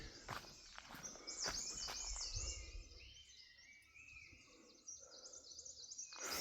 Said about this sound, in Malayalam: കിളികളുടെയൊക്കെ സൗണ്ട് കേട്ടില്ലേ